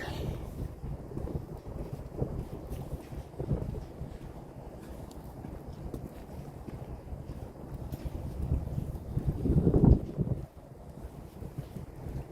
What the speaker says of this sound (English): that wind is blowing on that tower, though.